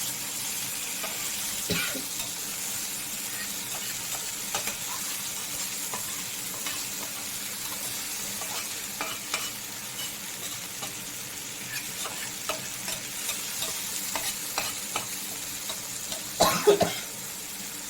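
Fish fries in a pan with a steady, soft sizzle that runs unbroken throughout, with a few faint clinks and a brief louder rustle near the end.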